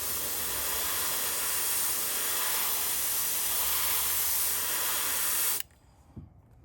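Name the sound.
airbrush spraying paint through stencil onto topwater lure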